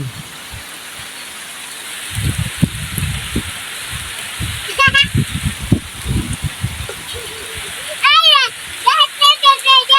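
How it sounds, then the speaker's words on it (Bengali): Rain pattering steadily onto a pond, a continuous hiss with splashy bursts, while people talk loudly over it. "বৃষ্টিটা কত সুন্দর লাগতেছে দেখেন তো পুকুরের মধ্যে"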